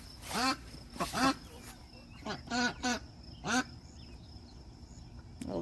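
Ducks in a garden give several quick rounds of quacking, loud and close, spaced across a few seconds with brief pauses between calls.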